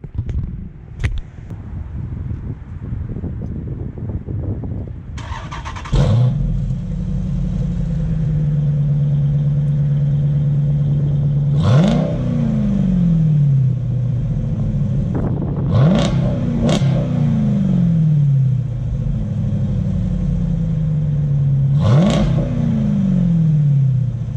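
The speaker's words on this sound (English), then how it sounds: "Got the tinted tail lights, the Corsa exhaust. Let's go ahead and take a quick peek of the sound of the exhaust." Jeep SRT8 with a Corsa exhaust starting up and idling with a deep rumble, then revved four times, each sharp rise in engine pitch followed by a falling sweep back down to idle, heard close by.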